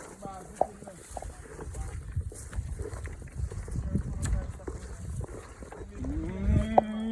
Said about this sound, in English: See cow there down in the bush.